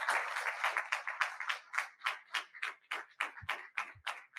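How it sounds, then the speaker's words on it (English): An audience at an Army aviation panel event applauds, a thin, fairly quiet patter of claps lasting a few seconds. "let's give this panel a round of applause"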